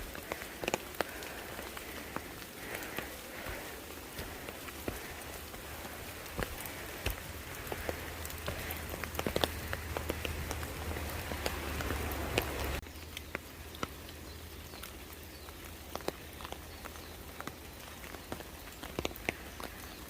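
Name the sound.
rain falling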